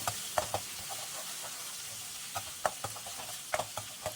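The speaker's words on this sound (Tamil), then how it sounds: "பூண்டோட பச்சை வாசம் போகிற அளவுக்கு ஒரு தரம் வதக்கி விட்டுக்கலாங்க" Garlic sizzles softly in a hot pan, with a few irregular clicks and scrapes of stirring over a quiet frying hiss.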